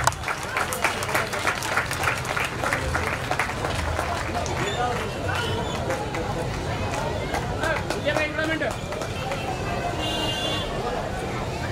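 An audience applauds during an on-stage honouring at a religious fair, busy clapping that tapers into crowd chatter and murmuring voices, with people talking throughout.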